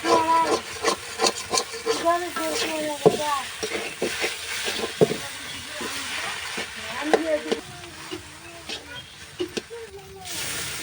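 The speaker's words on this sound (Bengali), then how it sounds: "এবার এর মধ্যে আমি খাটি সরিষার তেল দিয়ে দিচ্ছি একটু সময় নিয়ে খুব ধীরে ধীরে এই আলুগুলো ভেজে নিতে হবে" Potatoes fry slowly in pure mustard oil in a pan on a clay stove for potato dal, with a low sizzle under repeated scraping and stirring strokes, close up, and a voice at times.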